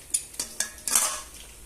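Dishes and pots clatter in a home kitchen during washing, with about five sharp metallic clinks and knocks at an irregular rhythm, close and fairly quiet, with no talking.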